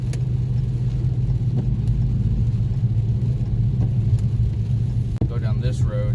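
A 2015 Dodge Challenger R/T Plus cruises through rain and traffic, its engine a steady low cabin rumble with road and rain hiss throughout, someone talking over it.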